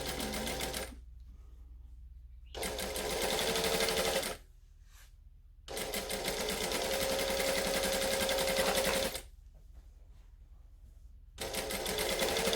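A sewing machine stitches a Butterick B6764 garment in loud, rapid mechanical runs, stopping twice for short pauses and then starting again, close up with no talking.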